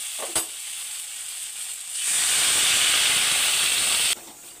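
A mixed vegetable curry in a pan bursts into loud hissing sizzle and steam once a little water is added and the lid goes on, holding steady for about two seconds before cutting off abruptly after a small clink.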